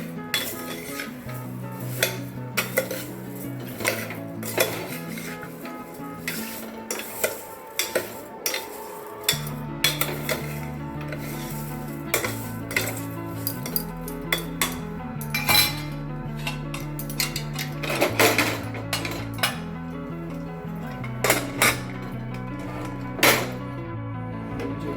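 A metal spoon stirs carrot halwa with added sugar in a pot, scraping and clinking against the sides in irregular bursts, with a low steady hum underneath and no talking.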